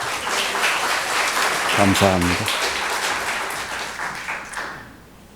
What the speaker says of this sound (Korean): 우리 목사님께 큰 환영의 박수 부탁드립니다